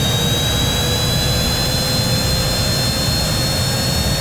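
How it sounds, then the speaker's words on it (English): A loud, continuous jet engine roar winding up for takeoff from a rooftop in a Cyberpunk RED sound set, a high whine held steady over a deep rumble, close and unbroken. "The sounds of the engines wind up."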